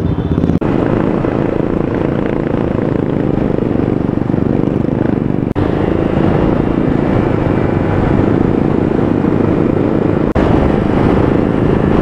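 A steady, loud engine roar and rush of wind on a motorcycle ride through Bangalore, continuous and close for the whole stretch with no speech.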